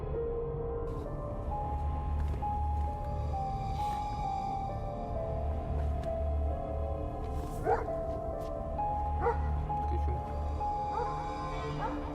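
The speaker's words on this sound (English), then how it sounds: "he suddenly heard his dog barking outside" A dog barking outside at night in a forest camp sounds as distant, muffled yips and barks, repeated irregularly under a steady low rumble of eerie background ambience.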